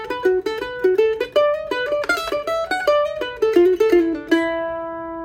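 A bluegrass lick from a tune is played solo, a quick run of bright plucked single notes that climbs and falls, then ends on a sustained ringing final note.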